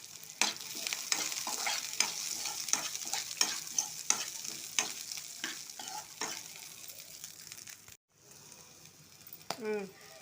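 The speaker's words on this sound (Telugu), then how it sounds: "మొక్కజొన్నలు ఫ్రై చేస్తున్నా" Corn kernels frying in a little oil, with a steady sizzle broken by repeated scraping stirs and occasional pops; the sizzle cuts out briefly near the end, then returns with a short squeak.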